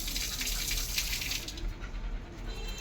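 Tap water running steadily for a dog's bath at home, a continuous close hiss and splash that eases slightly toward the end.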